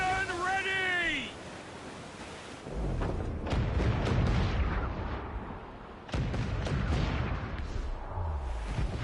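Ship cannons firing during a naval battle in the video game Assassin's Creed Black Flag, heavy booming blasts with rumbling tails, separated by shouted crew commands and mixed with game sound effects.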